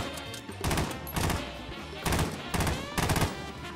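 Gunfire from an AK-47 in the video game Warzone, arriving as several loud bursts of rapid automatic shots in quick succession, with short pauses between bursts.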